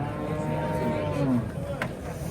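A cow at a livestock bazaar gives one long, full moo lasting over a second, heard up close amid the murmur of the market crowd.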